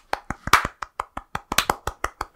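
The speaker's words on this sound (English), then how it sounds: "round of applause for Nick for moving house" A small group giving a round of applause, a dozen or so distinct, close claps in an uneven, loose rhythm, a couple doubled up, with no talking over them.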